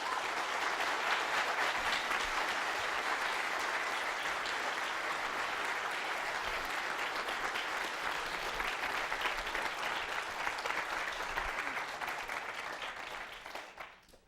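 Sustained audience applause welcoming a speaker at a lecture event, dense steady clapping at full strength for about thirteen seconds before fading out at the end.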